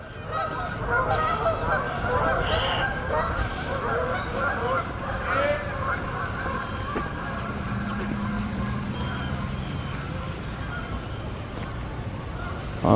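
Geese honk repeatedly beside a slow, low-flowing stretch of water in Roslyn, their calls carried over a steady broadband outdoor background with distant traffic rumble, and no talking.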